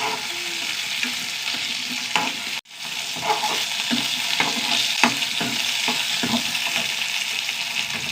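Ingredients sautéing in a hot pan, with a steady sizzle and repeated stirring and scraping strokes throughout, briefly broken by a short pause.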